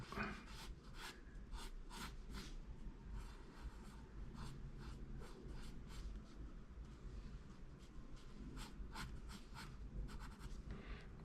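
An HB pencil scratches across paper in quick, steady strokes, a close dry rasp repeating in short bursts throughout against a faint background hum.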